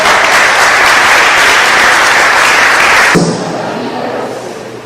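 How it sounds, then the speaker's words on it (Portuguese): A church youth camp congregation bursts into loud, dense applause that fills the room, then cuts off abruptly after about three seconds, leaving a quieter hall tone. "Dê um aplauso ao Senhor por isso."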